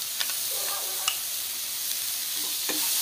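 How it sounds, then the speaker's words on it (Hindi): Ground spinach and pea paste sautéing in a pan for hara bhara kabab, a steady close sizzle with scattered soft scraping and stirring clicks throughout. "अब इस स्टेज पर ग्राइंड किया हुआ पालक और मटर इसमें डाल देंगे और इसको अच्छी तरह से"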